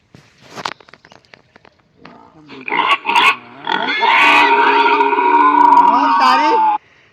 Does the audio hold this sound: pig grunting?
yes